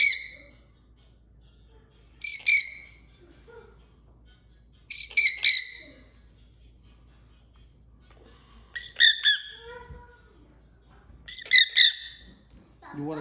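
A parrot with a burnt crop gives five sharp, loud squawks spaced a couple of seconds apart in a quiet room, with faint low background hum between the calls.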